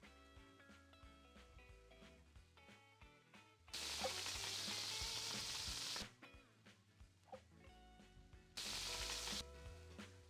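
A burger sizzling on a grill in the cooking video game Order Up, a steady hiss that swells loudly in two long bursts over a quieter frying background, with no talking.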